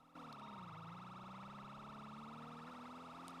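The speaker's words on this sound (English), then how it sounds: "He put on his siren so he knows we're going." A police car siren wails in a video game, a loud, sustained electronic tone with a wavering pitch running through the whole stretch, steady and fairly close.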